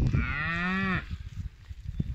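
Galloway cow mooing outdoors on grass, one loud, close, drawn-out moo lasting about a second, followed by quieter ambient rustle.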